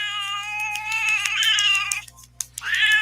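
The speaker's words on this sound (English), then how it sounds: "I recognize that noise. That's the noise a cat makes" A domestic cat meows in a long, drawn-out, wailing yowl lasting about two seconds, then a short pause with a couple of faint clicks before a second rising meow, close and fairly loud over a low steady hum.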